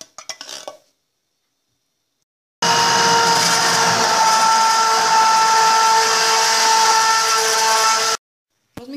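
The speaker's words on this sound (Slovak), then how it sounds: "a rozmixujeme." A kitchen blender whirs loudly and steadily for several seconds, mixing banana with milk for chia pudding, with brief clatter before it starts and silence after it stops.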